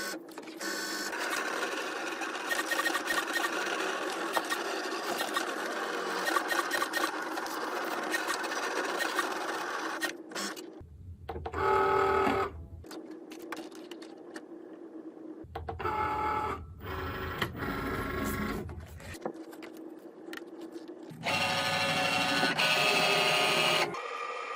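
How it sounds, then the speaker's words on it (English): A Cricut Maker cuts fabric on a mat for a fish applique, its motors whirring and buzzing steadily up close with several changes in pitch and short pauses between passes, no voices. "While the pink mat is cutting, I will unload the fabric on the blue mat."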